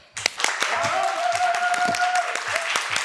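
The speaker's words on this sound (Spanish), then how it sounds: "Un fuerte aplauso, por favor, para Ruth Gabriel." Studio audience applauding a guest actress welcomed onto a television talk programme, with scattered sharp claps and a sustained tone and voices running through it, moderately loud.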